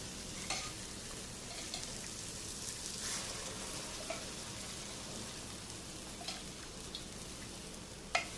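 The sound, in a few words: boiled dal sizzling in tadka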